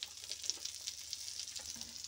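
Sweet corn vada frying in butter in a pan, a soft continuous sizzle with faint crackles, close and quiet.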